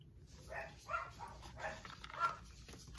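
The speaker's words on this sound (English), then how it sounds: "And the dogs begin barking." Dogs bark several times in short, uneven bursts somewhere indoors or nearby, fairly faint and slightly distant over a low background hum, with no voices.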